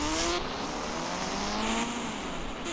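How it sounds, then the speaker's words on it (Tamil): A motorbike accelerating in an Indian bike video game, with a continuous engine whine that rises in pitch over a few seconds, loud and close, with no talking. "நான் வண்டியோட பிக்கப் பார்ப்போம்."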